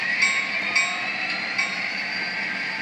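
An HO scale Kato Union Pacific SD38 model locomotive with a sound decoder runs its startup sequence, a steady mechanical hum with a few faint clicks and clanks, heard alone at low volume.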